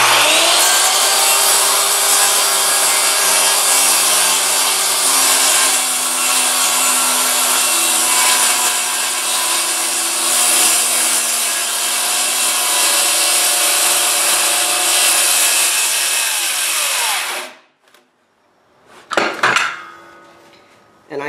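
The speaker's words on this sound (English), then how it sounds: "I get my front heel set in there, firm grip on the saw, and I line up with my miter." A power saw with a dull blade cuts a Trex stair stringer, a loud sustained whine that holds steady for about seventeen seconds, then spins down and stops, followed by a brief rattle near the end.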